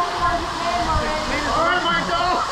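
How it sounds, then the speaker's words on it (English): The waterfall at Yelapa, Mexico roars as a steady, broad rush of falling water, heard close. A voice speaks over it. "Now let's go into the waterfall."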